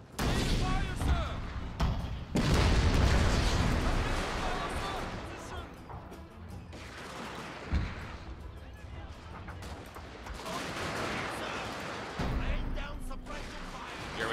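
Volleys of musket fire and crashing battle noise from sharpshooters in Total War Shogun 2 rumble on loudly and continuously, mixed with shouted unit voice lines and commentary throughout.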